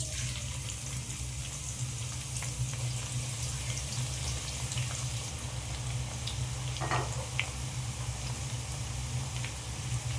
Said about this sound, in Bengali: তেল গরম হয়ে গেছে, এবার আমি পেঁয়াজগুলো ভেজে নেব।